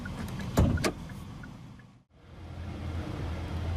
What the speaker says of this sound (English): Driver's window and the front passenger window are fully automatic